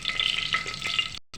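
Curry leaves and spices hit hot oil in a pressure cooker with a brief, bright crackling sizzle that cuts off abruptly.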